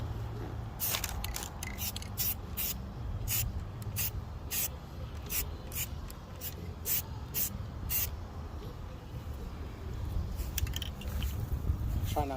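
Spray paint goes onto a boat trailer in a series of short, close hissing bursts over steady background noise, with no talk.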